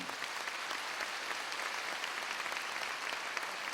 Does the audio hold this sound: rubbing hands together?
no